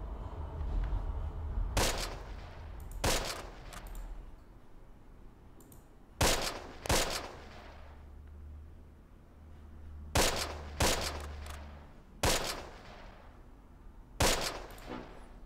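Gunfire in a D-Day video game comes as repeated sharp bursts of rifle and machine-gun shots, loud and fairly close, with low rumbling battle ambience in the quiet stretches between them.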